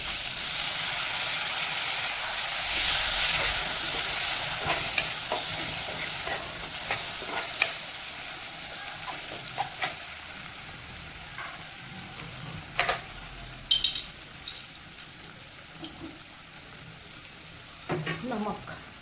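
Tomatoes frying in a pan for a kundru (ivy gourd) curry, a steady hiss of sizzling with intermittent scraping and clinking as a utensil stirs, close and moderately loud.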